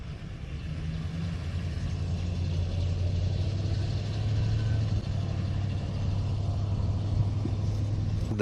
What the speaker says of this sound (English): there goes the Silverado. The 2500 is out of here.